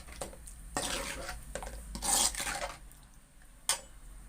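Fish curry being stirred in a pot after tamarind water is added, a few separate scraping, rubbing strokes with soft gaps between them, close and fairly quiet, with no talking.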